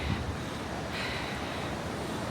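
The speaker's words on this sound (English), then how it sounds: "You'll be able to see how wild the water is with the waves" Choppy sea waves roll against a sea wall in strong wind, a steady loud wash of surf and gusting wind noise filling the whole stretch with no voices.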